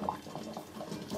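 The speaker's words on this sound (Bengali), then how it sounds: "রাইস কুকারের মধ্যে দিয়ে দিয়েছি, পানি ফুটছে" Water coming to a boil in a rice cooker while making caramel egg pudding, a steady soft bubbling and burbling patter close by, continuous and without talk.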